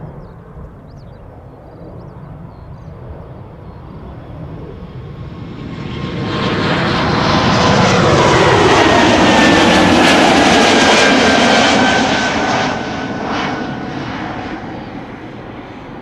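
An Airbus A220 airliner (Bombardier C-Series) at Schiphol Airport roars past, its jet engines swelling from a distant rumble to a loud, broad whine and then easing off as it moves away.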